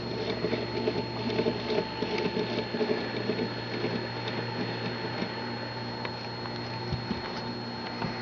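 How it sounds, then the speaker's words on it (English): Fishing line spooled onto a baitcasting reel, a close, steady fine clicking and pattering whir from the reel that runs evenly throughout, with a faint background hum. "I'm going to spool a little bit more line on here real quick"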